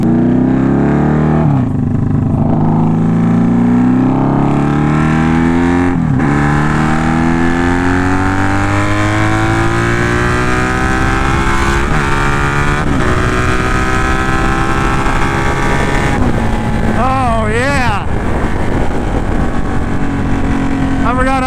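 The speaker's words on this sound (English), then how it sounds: "I haven't really had a chance to romp on the Magna." A Honda Magna motorcycle engine revs hard and very loud, its pitch climbing and falling in repeated sweeps close to the listener, with a sharp rev spike near the end.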